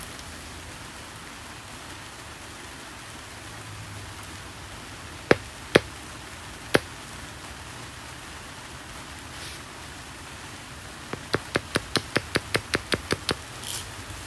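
An arrowhead is knapped from a glass oil bottle: three sharp, isolated ticks of flakes snapping off, then a quick run of about a dozen crisp, close clicks near the end, all over a quiet hiss.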